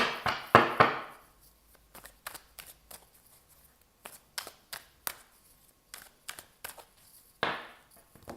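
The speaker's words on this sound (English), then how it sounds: "I'm just going to give these a bit of shuffle." Tarot cards being shuffled by hand, with bursts of riffling and slapping, including a flurry at the start and another near the end, separated by lighter taps and quiet pauses.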